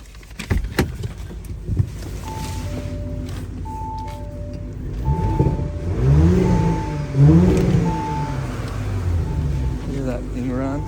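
A 2023 Audi S4 Quattro engine idles and then revs in a few rising surges, fairly close, while someone talks over it and an electronic chime beeps repeatedly in the background.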